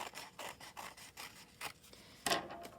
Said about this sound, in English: I'm going to cut out on the line, making sure that I turn my paper with my hand that's holding it